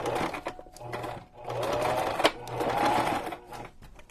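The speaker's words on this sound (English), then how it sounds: "Sewing that piece to that." Sewing machine stitching a fabric piece onto a junk journal cover, running in several short bursts of rapid mechanical whirring separated by brief pauses, close and clear.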